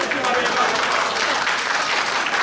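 Wrestling show audience applauding, a dense, steady wash of clapping hands from a crowd, filling the short stretch at an even level.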